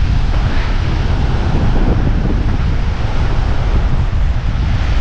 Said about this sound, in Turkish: gürül gürül bir rüzgar var